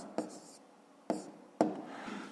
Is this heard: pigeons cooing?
no